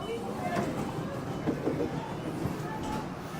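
A train pulls into Central Station with a low, steady rumble and rolling noise of rail cars, heard at moderate distance while people talk nearby.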